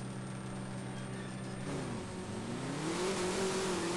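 In the No Limit Drag Racing 2.0 video game, a Camaro sleeper barn-find build launches down a drag strip, its engine droning steadily then climbing in pitch as it revs and accelerates, loud and continuous.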